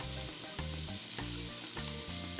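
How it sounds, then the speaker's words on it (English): Tomato and achiote sizzle and fry in a hot pan for pulled beef, a steady crackling hiss that fills the whole moment with no voices. "Fry these bits off."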